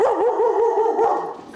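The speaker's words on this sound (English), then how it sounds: "a barking dog may send a burglar somewhere else" A dog barks and yips loudly and close by in a rapid, continuous run of sharp, wavering calls that edge toward a howl, with no voices around it.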